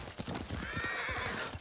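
Horse hooves clip-clop at a gallop with a whinny layered over them in the samurai game Ghost of Tsushima, steady and fairly close, with no talking.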